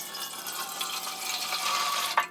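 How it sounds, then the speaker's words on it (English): Hot water poured through a funnel into a homemade motorcycle gas tank, a soft continuous splashing trickle that rises slightly in pitch as it fills, ending with a brief gurgle. "And I've also got this funnel, hot water into the tank."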